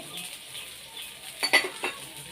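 Pesarattu frying in oil on a pan, a low, steady sizzle with a few brief clinks of a utensil against the pan near the end.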